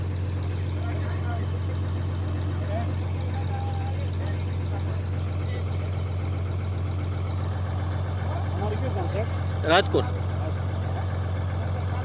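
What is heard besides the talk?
borewell drilling rig truck engine running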